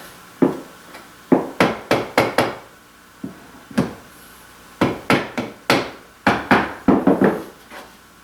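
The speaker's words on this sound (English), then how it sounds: "This one piece, well, it could be tapped in a little bit." A wooden poker table top piece is tapped into place with a series of sharp knocks, arriving in quick irregular clusters of two to five blows separated by short pauses, close and loud.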